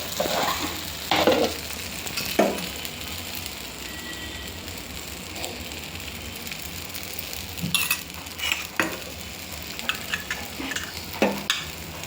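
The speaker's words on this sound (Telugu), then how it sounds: "ఇప్పుడు ప్లేన్ దోశ వేసుకుంటాను నేను" A plain dosa cooking on a hot pan gives a steady, soft sizzle throughout, with occasional sharp scrapes and clinks of a utensil against the pan.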